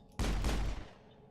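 A single pistol shot in the video game Mass Effect, a sharp burst with a short ringing decay, heard alone and fairly quiet.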